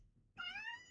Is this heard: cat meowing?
yes